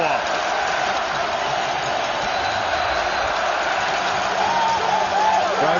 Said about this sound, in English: this crowd is roaring in Ottawa